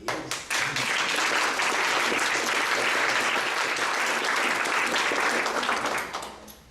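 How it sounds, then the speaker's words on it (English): Graduation audience at a fitness college ceremony clapping and cheering, a loud dense wall of applause that starts abruptly, holds steady for several seconds and tapers at the end. "please stay yelling and screaming and clapping and cheering"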